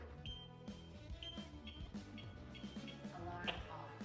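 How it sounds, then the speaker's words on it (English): A home security alarm system sounds repeated short high beeps at an irregular rhythm, faint and set against a busy, continuous background of layered tones and noise. "But if it does trigger the system, it'll start beeping to ask me for the PIN."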